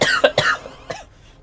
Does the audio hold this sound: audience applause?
no